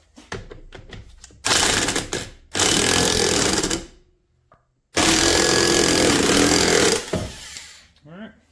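Torque wrench tightening a bolt on a Ski-Doo Formula Mach 1 617cc Rotax engine during a rebuild, heard as close bursts of ratcheting clatter in two long runs with brief gaps and faint handling noise.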